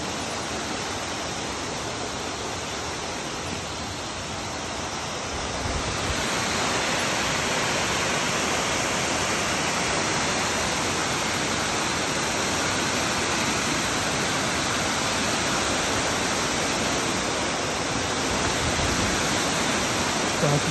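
River water flows past its banks in a steady, broadband rush, constant and fairly close, slightly louder after the first few seconds and continuing unbroken without voices.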